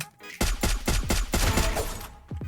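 Rapid bursts of gunfire from a Free Fire match, about eight sharp shots in an uneven rhythm, loud and close, with a brief quiet before the volley starts.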